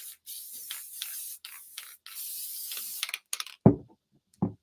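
A few short bursts of aerosol spray hiss, broadband and close, with brief pauses, followed by a couple of louder clicks or taps near the end.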